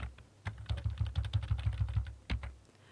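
Computer keyboard keys clatter in a quick, irregular run of close, crisp clicks, with one heavier keystroke near the end and no voices.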